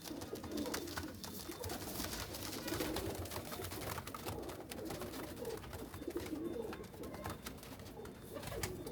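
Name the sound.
pigeons cooing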